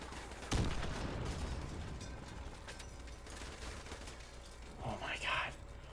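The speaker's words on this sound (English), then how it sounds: "They're shooting each other." Gunfire from a Modern Warfare Remastered prop hunt match crackles in a sharp burst, then continues as quieter scattered shots beneath a low game din, with a faint voice briefly audible near the end.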